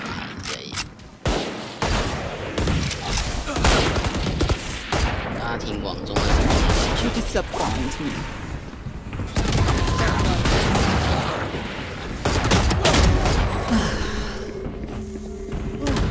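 Gunfire in the tactical shooter Valorant during a 2023 VCT match, with dense bursts of shots and heavy thuds running through the whole stretch, loud and close, mixed with game effects and talk from players.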